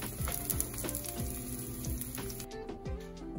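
Aloo paratha frying in a pan in olive oil topped with butter, giving a steady close sizzle with light scraping and clinking from a spatula.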